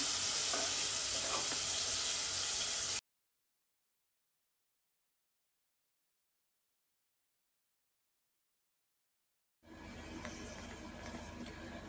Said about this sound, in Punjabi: ਹੁਣ ਆਪਾਂ ਪਿਆਜ਼ ਭੁੰਨ ਲੈਨੇ ਆ